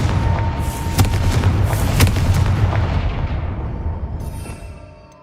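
A Confringo blasting spell goes off repeatedly in Hogwarts Legacy, heavy booming bursts rolling over one another for several seconds, loud and close before fading into a rumbling tail.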